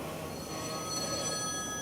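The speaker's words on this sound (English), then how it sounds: "There's my phone ringing" A phone rings with a steady electronic tone that holds evenly throughout, over a soft background hiss.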